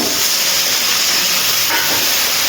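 Water poured into a pan of hot turmeric, salt and Kashmiri chilli powder for a cauliflower and prawn curry sizzles in a loud, steady steam hiss that carries on throughout.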